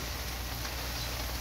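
Rain falls steadily on a small backyard tilapia pond in the evening, giving a dense, even hiss and patter with no other sounds.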